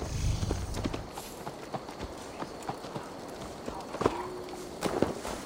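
Horse hooves in Assassin's Creed Valhalla clop sparsely near a farm, irregular close footfalls at moderate volume, with a short tonal whinny-like call midway.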